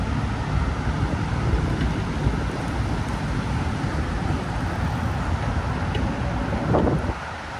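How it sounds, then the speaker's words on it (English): Wind blows into the microphone outdoors on a walk around Paseo de Magallanes, producing a steady, loud low rumble and buffeting that covers everything else for the whole stretch. "yeah, sorry about the wind, guys."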